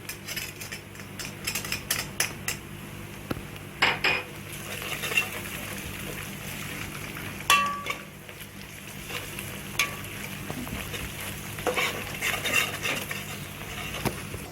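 Onions darkening in a hot pan are stirred continuously, with repeated scrapes and clinks of a utensil against the pan over a steady background sizzle, close and unbroken for several seconds.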